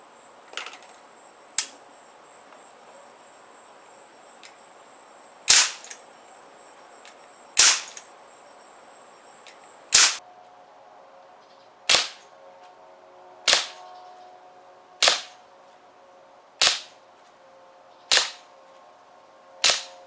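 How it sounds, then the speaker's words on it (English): Winchester MP4 CO2 air rifle fired repeatedly, about a dozen sharp, loud cracks spaced one to two seconds apart, each standing alone against a quiet background with no talking. "most shooters can expect at least 60 good shots, maybe closer to 80 good shots from the Winchester MP4"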